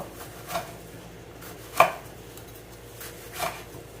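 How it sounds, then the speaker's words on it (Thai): Knife chopping tomatoes on a cutting board in a home kitchen, three sharp, isolated cuts spaced about a second or more apart, close and fairly quiet with no voices. "ต่อไปก็มาหั่นมะเขือเทศกันก่อนค่ะ"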